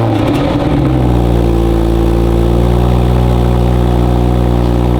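A warm BMW car engine idles steadily with a low, even hum and slight roughness, close up and alone, after a brief rev settles at the start.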